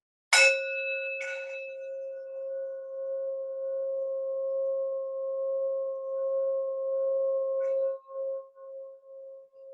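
A hand bell is struck once and then again a moment later. Its bright clang fades into a long, clear ring that hums on for several seconds and wavers near the end.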